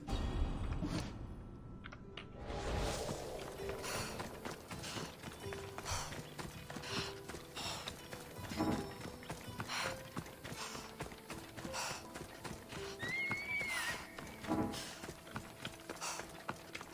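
A horse's hooves clip-clop in Assassin's Creed Odyssey, a busy run of hoof strikes alongside mechanical clicks, with a short whinny near the end, all at moderate loudness.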